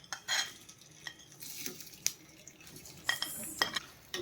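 Raw turmeric stirred and frying in oil over a high flame for a pickle, with a steady faint sizzle under scattered scraping clinks of a utensil against the pan, loudest in a few short bursts.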